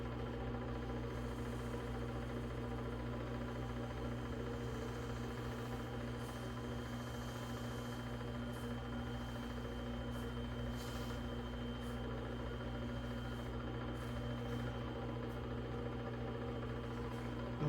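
A Wen mini-lathe spins a slimline pen blank at steady speed, giving a constant low motor hum with a faint whine above it, close by and even throughout, with no talking.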